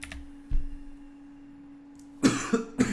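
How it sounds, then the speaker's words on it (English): A man coughs close to the microphone in a short burst of two or three rough coughs near the end, after a quiet stretch with a soft thump. "Starting to cough a little bit."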